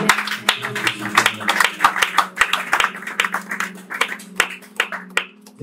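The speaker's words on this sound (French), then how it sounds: "Acclamons pour sa parole." A church congregation claps and applauds through a service, the sharp uneven hand claps dense and close, running steadily under a held organ or keyboard tone with some voices mixed in.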